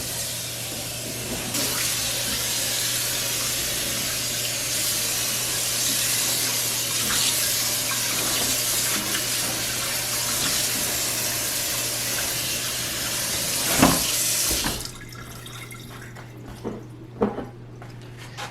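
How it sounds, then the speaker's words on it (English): Tap water runs hard and steady into a kitchen sink during rinsing, a loud, unbroken rushing spray for about fifteen seconds, then stops, leaving a few drips and clunks. "first we're going to rinse this sink out"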